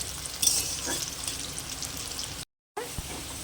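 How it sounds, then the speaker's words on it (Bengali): Potato pieces frying in oil in a pan for a Bengali soybean curry, a soft steady sizzle with a brief brighter crackle early on, the sound cutting out for a moment near the end. "আলুগুলো লাল হয়ে কত সুন্দর কষানো হচ্ছে"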